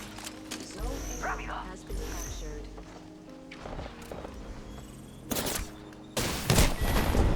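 Gunfire in a video game, scattered bursts of shots and clattering effects mixed with footsteps and game sounds, with a person talking over much of it and louder bursts near the end.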